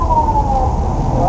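A police siren wails steadily over loud road and engine rumble near a highway tollgate at night, close by, with a faint voice mixed in.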